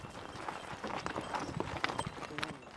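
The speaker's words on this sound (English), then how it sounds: "This horse-drawn cart will take 5 hours to reach the nearest market." A horse-drawn cart on a rural road in Romania, with steady clip-clopping hooves and a faint rolling rattle, moderately distant and low in level, with a voice talking over it.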